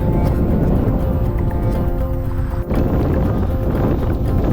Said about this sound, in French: J'ai vraiment un vent super fort dans la face.